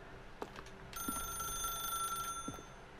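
A telephone rings in the video game The Stanley Parable, one sustained bright electronic ring lasting over a second amid faint background tones and a few soft knocks, no talk.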